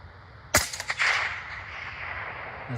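A single sharp rifle shot fired at a target rings out, followed by a few quick echoing cracks and a lingering rumble fading into steady background noise.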